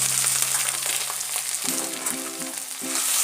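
Spices and vegetables frying in mustard oil, with eggplant and fish in the pan: a steady, bright sizzle runs throughout, with a few soft scrapes of stirring and low clinks partway through.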